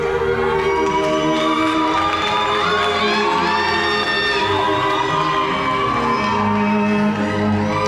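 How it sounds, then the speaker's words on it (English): Crowd at the Mr Mpumalanga 2025 grand coronation pageant cheering and whooping with children shouting, loud and continuous over music with sustained tones throughout. "Give him a round of applause"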